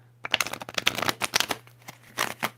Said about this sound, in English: I don't like to shuffle the cards in the camera because it, like, messes it up.